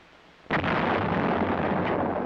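A self-propelled 105mm howitzer fires a single loud, booming round after a quiet moment, the blast rolling on into a long sustained rumble.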